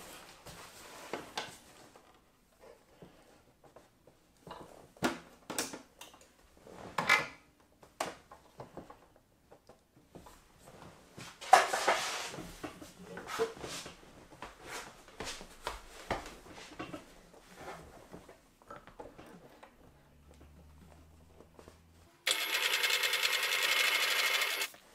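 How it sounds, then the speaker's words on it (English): A sewing machine stitches waxed canvas fabric for a simple peg bag, running in short, irregular close bursts with quiet pauses, then ending in a louder continuous whir. "I'm going to run a stitch down this side just to hold it all in place"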